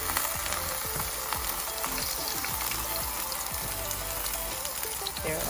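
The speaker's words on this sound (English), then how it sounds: "You're going to start by putting the eggplants cut side down into your oiled pan." Eggplants fry cut side down in an oiled pan with a loud, dense, steady sizzle and crackle that fills the whole stretch, with occasional faint clicks beneath and no talk.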